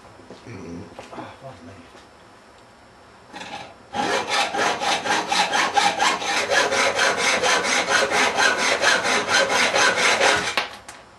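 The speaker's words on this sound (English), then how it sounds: "now I'm going to go saw it off" Close, loud rhythmic hand-sawing through metal seat mounting brackets on a Fiat Ducato seat swivel, clamped to a bench, with steady back-and-forth strokes running for about seven seconds after a few quieter handling noises.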